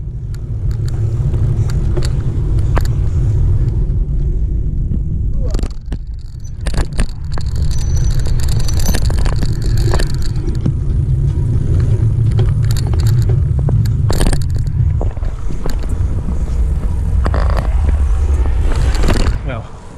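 Car driving around, a continuous low engine and road rumble from inside the vehicle with occasional knocks and rattles, a voice talking over it.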